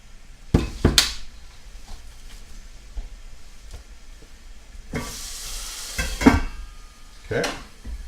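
Garlic and onions cook in a pan for a pork salsa pasta, a soft sizzle under intermittent clatters and scrapes of stirring that come in short bursts.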